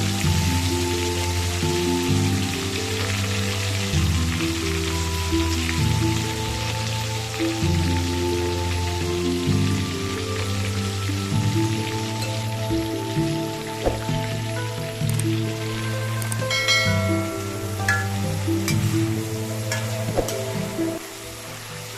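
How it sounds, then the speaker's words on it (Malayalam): Prawns frying in sunflower oil in a pan for a Kerala prawn roast make a dense crackling sizzle, steady and close, with clinks of stirring and background hum, and no talk. "ആദ്യം ഇതിനെ ഒന്ന് ഫ്രൈ ചെയ്തെടുക്കണം കൊഞ്ചിനെ."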